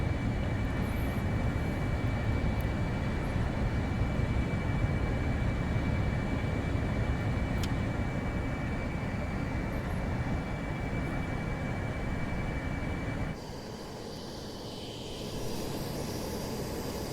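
An F-35B jet in Microsoft Flight Simulator 2024 drones with a steady, loud engine roar and a sustained high whine, continuous for most of the stretch before the tone drops and thins near the end.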